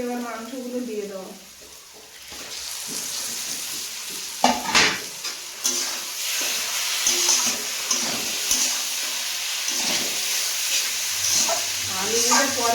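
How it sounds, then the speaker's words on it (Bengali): Goat meat added to fried spice masala in a pot, hissing and sizzling steadily after a clattering drop, with stirring and scraping through the rest and a brief voice near the start. "মশলাটা কষানো হয়ে গেছে, এবার মাংসগুলো দিয়ে দেবো।"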